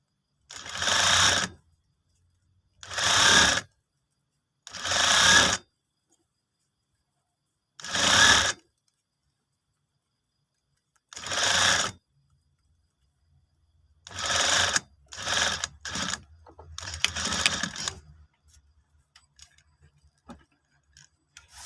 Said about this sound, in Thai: เวลาเย็บปิดดามคอหลังนะคะ เราดึงผ้าตัวนี้ลงด้วยนะคะ